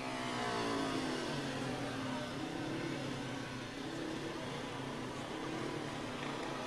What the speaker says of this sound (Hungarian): hallatlan nyugalommal túráztatja motorját